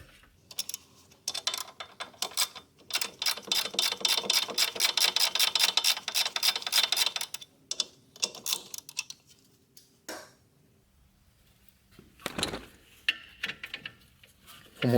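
Metal wrench ratcheting and clicking in rapid bursts on the brake caliper bolts of a Tesla Model Y during a wheel bearing job, loud and close, with scattered knocks and clanks after the main run.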